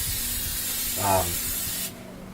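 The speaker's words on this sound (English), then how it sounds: "I spray the sock on the inside with this silicone." A short hiss of a silicone spray can spraying inside a sock for about a second, close by, over a steady background hum.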